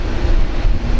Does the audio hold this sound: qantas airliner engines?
yes